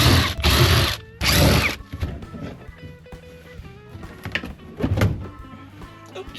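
Ratchet wrench loosening car center console bolts during a home transmission install, bursts of rapid clicking alternating with short metallic clatters and pauses, close and loud.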